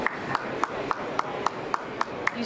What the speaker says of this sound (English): So if you clap,